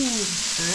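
Tomahawk ribeye steak sizzles on a grill, a loud, dense, steady hiss heard up close, with a faint gliding tone underneath and no clear speech.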